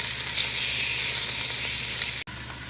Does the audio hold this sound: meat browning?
yes